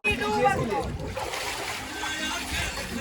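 Water splashes and sloshes loudly up close as people dip into a chilled ice bath, with excited voices and shouting mixed in throughout.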